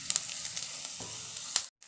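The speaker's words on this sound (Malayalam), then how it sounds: "3 സ്പൂൺ വെളിച്ചെണ്ണയിൽ ഉള്ളി വഴറ്റിയെടുക്കട്ടോ." Onions sautéing in coconut oil give a steady close sizzle with occasional sharp spatters and spoon clicks, briefly dropping to near silence at the end.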